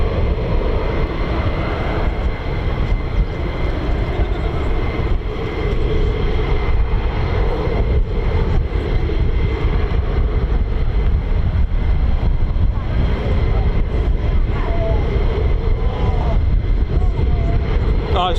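F-35 fighter jets taxi across a runway at RAF Lakenheath, giving a loud, continuous engine roar and whine that stays steady throughout.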